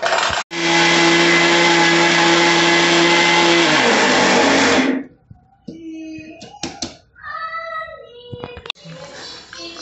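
A kitchen mixer grinder grinds dal into a coarse powder for idli podi, running as a loud, steady whirring roar for about four and a half seconds before cutting off. Scattered clinks, knocks and a voice follow afterwards.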